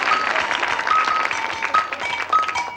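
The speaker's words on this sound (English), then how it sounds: "Clap." Studio audience clapping at a comedy show, a dense burst of applause with a few steady tones running beneath it, loud and sustained for the whole stretch.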